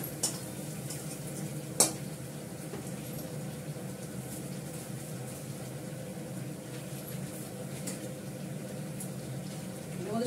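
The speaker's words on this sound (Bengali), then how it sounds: "এটাকে ভালো করে কষিয়ে নিচ্ছি" Food sautés quietly in a pan with a low, even sizzle, broken by occasional utensil scrapes and one sharp clink near the start. The sound is fairly faint and steady, with no speech.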